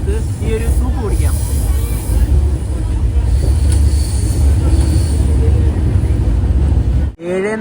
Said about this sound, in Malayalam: ട്രെയിൻ ഇതാ പനവേൽ റെയിൽവേ സ്റ്റേഷനിലേക്ക് എത്തി.